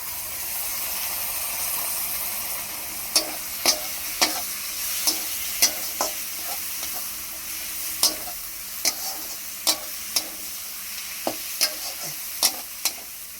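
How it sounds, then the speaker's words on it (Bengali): Chopped tomato frying with spices, onion and turmeric in a pan, a steady hiss of sizzling broken by a long series of crisp spatula scrapes, sparse at first and then coming in quicker succession. "এবার টমেটো কুচি দিয়ে দেব"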